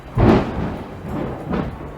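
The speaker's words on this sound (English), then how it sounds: "I've got a giant thunderstorm" Thunder from a large approaching thunderstorm, heard as two deep, low rumbles: a stronger roll near the start and a softer one later, over steady background noise.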